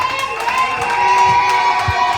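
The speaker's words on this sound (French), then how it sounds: "On peut l'applaudir, on peut l'applaudir" A wedding dance-party crowd cheers and claps in a continuous, lively roar with scattered shouts, sounding moderately close.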